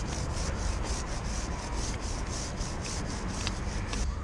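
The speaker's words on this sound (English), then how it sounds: "you want to scrub the bottom part of the chain" A brush scrubs grime off a motorcycle chain in quick, rhythmic back-and-forth strokes, a close, steady rasping scrub with no talking.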